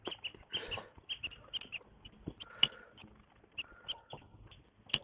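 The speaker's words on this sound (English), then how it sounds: "I can hear the birds anyway." Birds chirp and call outdoors in quick, repeated high notes, scattered and fairly faint, with some lower animal-like clucks mixed in and no one talking.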